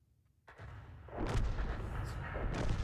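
Tank gunfire in a tank battle video game, Lorraine 155 50 match: a sudden heavy blast followed by a rolling, rumbling roar and further booming impacts, loud and close, with no voices.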